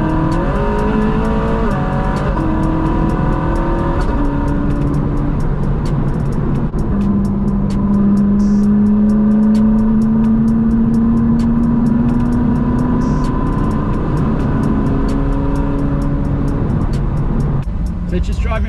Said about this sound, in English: Everybody's revving their engines and people are waving.